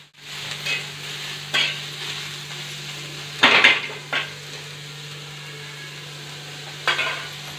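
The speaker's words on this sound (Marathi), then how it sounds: "आता आपण कांदा भाजून घेणार आहे." Onion roasting in a pan, soft faint sizzle under a low steady hum, punctuated by several sharp scraping and clattering stirs of a utensil against the pan.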